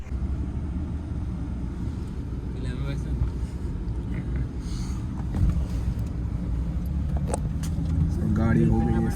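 A desert safari vehicle runs with a steady low engine rumble and road noise throughout, growing slightly louder toward the end, while people talk over it.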